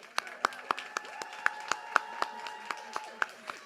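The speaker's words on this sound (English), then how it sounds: "One last round of applause for our graduating students." At a university Master of Public Health graduation celebration, a few people clap in a sparse, slightly irregular rhythm, each clap sharp and distinct. Faint voices and a soft background murmur run underneath.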